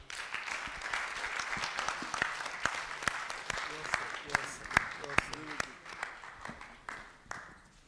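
Audience applause at a technology conference session, a thin scattering of claps from a small crowd. The clapping is fairly faint and uneven, with sharp individual claps standing out before it tapers off.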